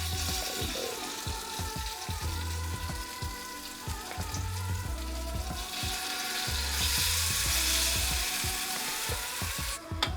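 Chorizo tomato pasta sauce, rich with chorizo oil, heats in a pan with a loud, continuous sizzle and dense crackling pops that grow slightly louder toward the end.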